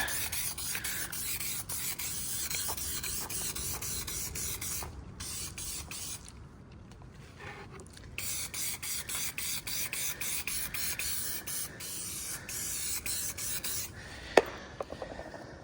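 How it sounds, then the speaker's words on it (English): Repeated hissing bursts of bonding adhesive sprayed from an aerosol can, close up, with short pauses between passes and a sharp click near the end. "All I'm using is some bonding adhesive. Just spraying them up."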